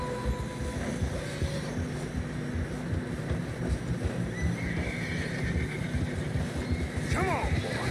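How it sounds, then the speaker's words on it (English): Horse neighing and whinnying while trudging through deep fresh snow in Red Dead Redemption 2, with clopping and scuffing steps beneath; a sharper whinny rises near the end over steady outdoor noise. "Horse struggling."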